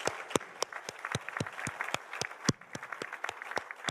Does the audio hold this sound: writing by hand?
no